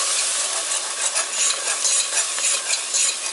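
Milk is whisked into a sauce for scalloped potatoes, a fast, steady, close swishing and scraping of the whisk against the pan that runs without a break.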